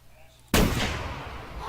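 A single loud rifle shot fired at a deer in the hunting video game theHunter Classic, a sharp crack followed by a long rolling echo after a quiet lead-in.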